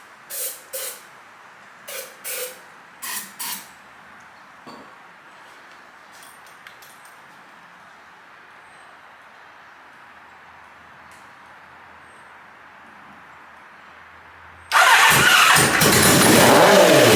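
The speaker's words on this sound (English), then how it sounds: "I could spray some starting fluid in it and watch it go vroom." Three quick pairs of hissing starting fluid spray bursts, a long quiet stretch, then a 1980 Kawasaki KZ1000 LTD motorcycle engine abruptly roars to life, loud and steady at the end.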